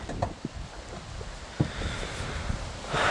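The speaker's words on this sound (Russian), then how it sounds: "Видите, ветрище. Ну, как деревья качают." Strong wind gusting outdoors through swaying trees, a broad steady rush with a few soft knocks and a louder gust swelling near the end, no voices.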